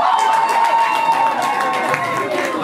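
Wedding guests at an official ceremony cheer and clap loudly as a crowd, a steady dense roar of voices and hands with shouts rising through it for nearly three seconds.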